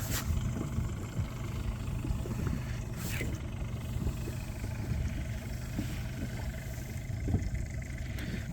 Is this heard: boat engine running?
yes